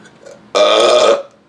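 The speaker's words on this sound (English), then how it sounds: "I edit out all these burps." A single loud, drawn-out burp of about half a second rises abruptly out of quiet and cuts off cleanly, with faint background noise on either side.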